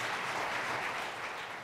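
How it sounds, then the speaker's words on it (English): Steady applause from an audience at a religious gathering, even and moderately faint throughout, with no talking over it. "Let us give a big round of applause to our true parents of heaven,"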